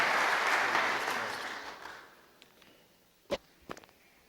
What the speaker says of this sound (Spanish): Pavel Muñoz, con un fuerte aplauso